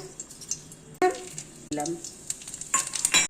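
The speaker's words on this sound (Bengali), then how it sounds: "কড়াই গরম হয়ে গেছে, এবার তেল দিয়ে দিচ্ছি।" Oil crackles and sizzles in a hot wok while Bengali drumstick-stalk chorchori is being cooked, with sudden louder bursts and scraping stirs over a low kitchen background.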